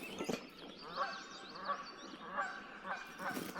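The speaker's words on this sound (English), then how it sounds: "Geese are going again." Geese honk repeatedly in a loose, overlapping series at middle distance, the calls rising and falling over a quiet outdoor background near water.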